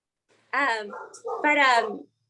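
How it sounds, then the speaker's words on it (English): A pet dog gives two drawn-out, whining yelps in close succession, loud and near, with silence before and after. "I think you can hear my dog probably."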